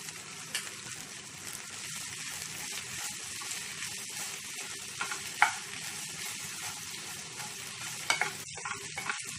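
Okra frying in a pan while being stirred, a continuous moderate sizzle broken by several sharp clanks and scrapes of a spoon against the pan, with no speech.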